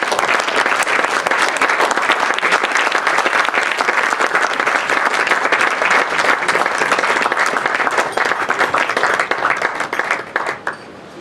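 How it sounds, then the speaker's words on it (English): Wedding guests clap in a loud, dense, sustained round of applause that thins out and fades over the final couple of seconds. "round of applause once again for Big Daddy"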